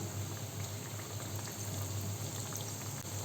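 Parippu vada lentil fritters deep-fry in hot coconut oil, giving a steady, dense sizzle and crackle that holds at an even level throughout with no voices.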